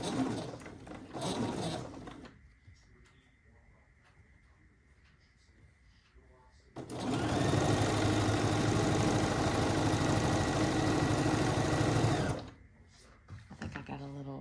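A sewing machine stitches quilt block pieces in a long, steady mechanical run, close and loud, with short stretches of conversation before and after it.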